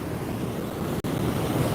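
Steady splashing wash of fountains in a sunny downtown Chicago plaza, a continuous broadband rush with no voices, briefly cut by a sharp momentary dropout near the end.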